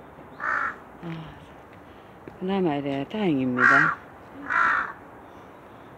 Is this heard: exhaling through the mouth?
no